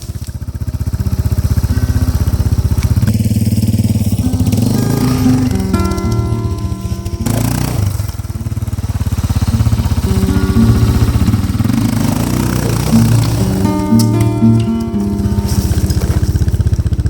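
Suzuki DR650 enduro motorcycle riding on washed-out Greek mountain roads, its single-cylinder engine droning steadily and loudly throughout with shifting revs and clattering over rough ground, no voices.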